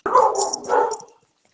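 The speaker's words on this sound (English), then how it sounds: "that bark will do a good job of scaring somebody off" A dog gives a couple of loud, close barks in quick succession, then falls silent, with no talking over it.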